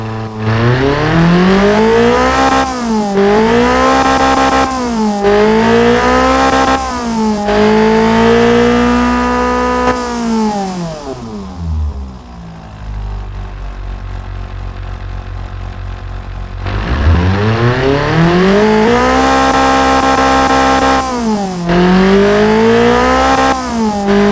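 A Toyota 2T-G engine bored out into a tuner build in the game Automation revs loudly and repeatedly, climbing and falling in pitch over several sweeps, dropping away briefly mid-way before rising again.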